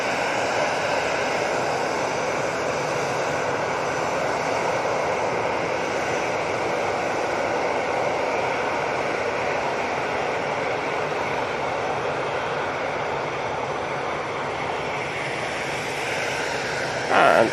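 An easyJet airliner at Manchester Airport on its way to Paris Charles de Gaulle gives off a steady, loud broadband jet engine roar that holds at a constant level throughout, with no voices.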